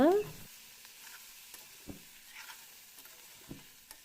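Wild puffball mushrooms (padke chyau) cooking in a pan, a faint steady sizzle with soft scrapes of stirring now and then, quiet and close.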